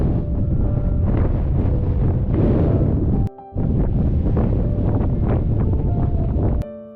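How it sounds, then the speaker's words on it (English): Strong wind roars and buffets across an exposed volcano summit in Iceland, loud and gusty with the sound of it striking the microphone, cutting out briefly midway before surging back. "It's getting windier on the top."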